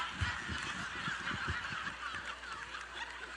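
A man imitates bird noises with his voice, goose-like honks and squawks repeated in a steady, continuous run, close and loud throughout.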